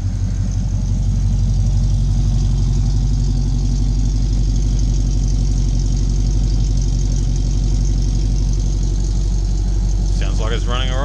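A CF Bedford van engine idles steadily close by, a low, even rhythmic chug without faltering, and a short high-pitched squeal near the end.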